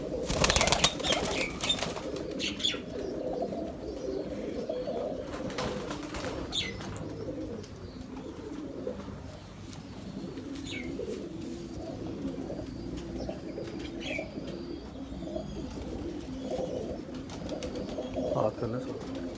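Young pigeons coo softly and steadily with occasional bursts of wing flapping, close by, forming a continuous murmur of bird sounds with a brief faint voice in the background.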